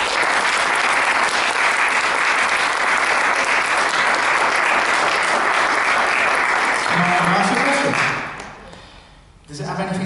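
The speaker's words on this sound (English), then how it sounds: "this round of applause is for you" A room full of people gives a dense round of applause after an anxiety therapy session, sustained and loud for about eight seconds before tapering off, with a voice speaking briefly as it ends.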